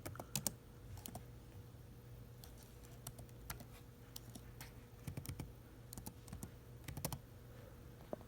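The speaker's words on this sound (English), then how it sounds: "Trying to type with one hand." Computer keyboard typed on with one hand, quiet irregular clicks and short bursts of keystrokes with pauses between, close and soft in a calm room.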